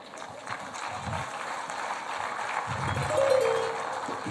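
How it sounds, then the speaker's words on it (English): A crowd cheers and roars at a large public gathering, a steady wash of massed voices lasting throughout and swelling slightly toward the end. "That cheering is not good."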